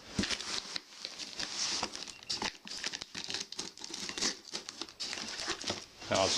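A cardboard box holding a Corsair K70 mechanical keyboard with Cherry MX Blue switches is cut open, with close crinkling, scraping and tearing in an irregular stream of short bursts, while a voice talks quietly at times.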